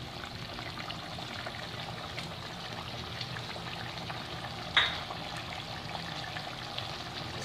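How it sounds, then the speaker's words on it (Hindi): Mutton tahari masala with chicken cube and coriander frying in a pot, a faint steady sizzle and bubbling throughout, with one brief clatter midway. "अब इसको थोड़ा सा हम भूनेंगे।"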